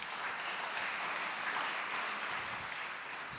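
Audience clapping at an environmental debate, a dense, even wash of many hands applauding throughout, steady and moderately loud with no pauses.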